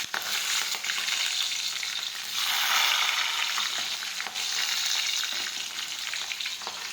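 Cloves, chilli and curry leaves sizzle loudly in hot oil for dal, a dense, steady crackle with a brief surge midway, close and with no voices.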